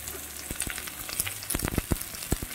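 Cut potatoes sizzle and fry in a hot pan with oil, with scattered scraping clicks as they are stirred, close and steady throughout.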